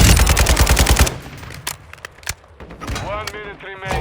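Rapid automatic gunfire in Call of Duty Modern Warfare II multiplayer, a dense burst of loud shots for about a second, followed by scattered single shots and game effects with a voice briefly audible.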